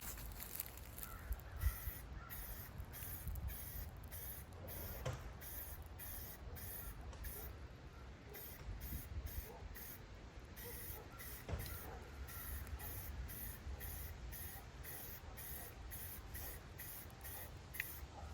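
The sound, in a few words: spraying Rust-Oleum metal primer with a spray can handle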